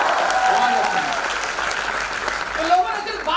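A hall full of people at a recognition program in Indore bursts into applause, a dense clatter of clapping with voices talking and calling out over it.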